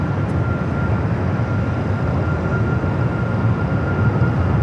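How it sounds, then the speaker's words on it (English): An Alaska Airlines Boeing 737 MAX 9 taking off at LAX, heard as a steady, loud, broadband jet roar with a constant rumble and no speech. "Next takeoff is Alaska, flight 239, heading to SFO, a 737 MAX 9"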